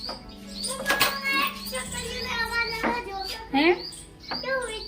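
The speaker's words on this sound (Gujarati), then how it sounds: "ચકલીનો અવાજ આવે" High, quick chirps from a sparrow repeat through the clip, with a voice speaking briefly nearby.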